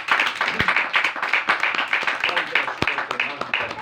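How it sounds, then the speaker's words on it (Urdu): A church congregation clapping hard together in a quick, rhythmic beat, loud and close, with voices mixed in among the claps. "ایک بار زوردار تالیاں"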